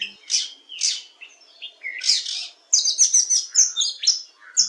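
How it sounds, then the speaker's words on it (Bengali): Male oriental magpie-robin (doyel) singing in breeding season: a clear run of bright, varied whistled phrases and quick chirps, close and alone. "প্রজননকালে পুরুষ দোয়েল পাখির ডাক শুনলে মন ভালো হয়ে যায়"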